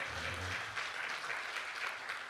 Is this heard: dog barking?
no